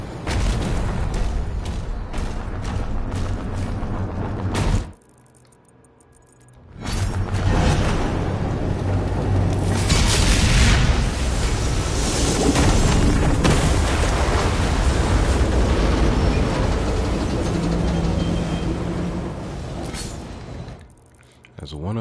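Heavy explosions tear apart a hell cannon in Doom: The Dark Ages on Nightmare difficulty, a loud, dense barrage of booms and blasts that drops out briefly and then resumes, with a voice talking over the din.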